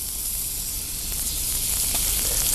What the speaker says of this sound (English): We're going to add a couple of pieces of butter.